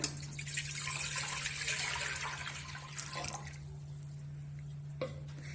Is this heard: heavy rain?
no